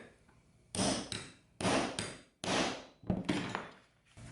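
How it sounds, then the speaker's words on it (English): Several sharp hammer strikes from the flat end of an awl set a leather snap, landing in an uneven rhythm, each ringing briefly before fading, close up and fairly loud. "we're just using the flat end to hammer that down"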